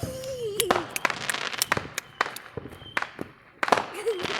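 Fourth of July fireworks bursting outdoors, a rapid series of sharp pops and crackles with several louder booms, while people talk and exclaim nearby throughout.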